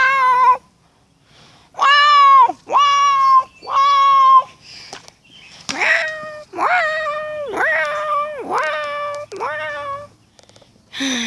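A person imitates a cat meowing, voicing a string of about eight drawn-out, whiny meows in two bursts with short gaps, loud and close with no other sound.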